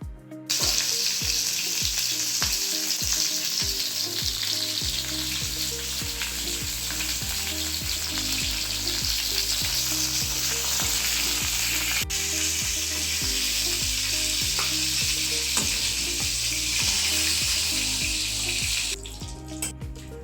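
Pointed gourd pieces frying in oil with salt in a pan, a steady close sizzle broken by a few scraping stirs at the start and a brief clack partway through, with no voices.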